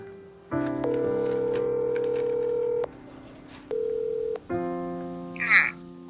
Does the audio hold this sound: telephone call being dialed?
yes